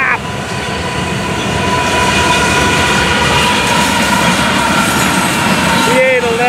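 FEC 101 freight train rumbles past at close range in a steady, loud roar of rolling cars, with a brief horn-like tone near the end.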